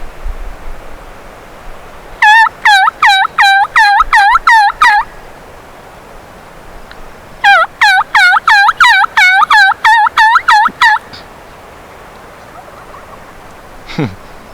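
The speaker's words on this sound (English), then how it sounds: "Yeah, he's gobbling. Definitely gobbling." Wild turkey gobbling outdoors on a spring bear hunt, two long series of rapid rattling gobbles separated by a quiet pause, then a single faint call near the end.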